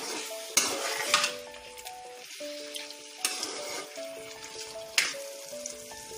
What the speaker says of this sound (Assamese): এয়া মই অমিতাখিনি এবাৰ লৰাই দিম